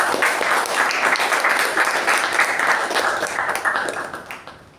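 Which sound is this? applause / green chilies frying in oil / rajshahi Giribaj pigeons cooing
applause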